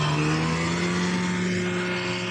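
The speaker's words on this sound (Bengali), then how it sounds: "এই যে দেখো ওই বাইকগুলো আসছে" Motorbikes on a mountain road at Sonmarg, with a continuous, loud engine drone holding a steady pitch as they pass close by.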